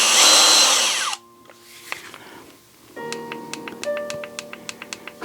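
A HOTO 12V brushless drill whirs loudly for about a second, then winds down; after a quiet gap, a series of sharp ticking clicks follows as the clutch or speed setting is adjusted.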